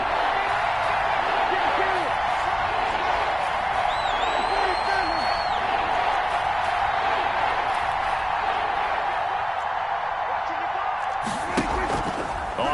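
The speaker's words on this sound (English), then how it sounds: "The crowd getting into it as we come up on a big 3rd down" A steady, loud roar of a stadium crowd in an NFL video game on PS4, building before a big third down in a Cowboys game, with faint whistles over the continuous wash of noise.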